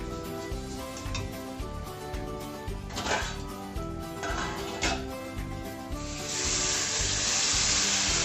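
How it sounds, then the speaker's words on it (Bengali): Semolina sizzling in a pan for spicy jhal suji as water is added a little at a time, a steady frying crackle with brief stirring scrapes, building into a loud, broad hiss of steam toward the end, with no one speaking. "এবারে আমরা এর মধ্যে অল্প অল্প করে জল দিতে থাকবো"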